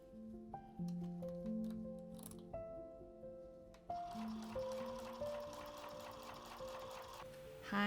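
A sewing machine stitches a small patchwork zippered pouch, its motor running in steady bursts with short pauses between runs, the whir shifting pitch from run to run, close and clear with no talking.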